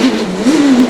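A Proton rally car built for international WRC rallying roars loudly up close, its engine note holding steady and then climbing in a brief rev.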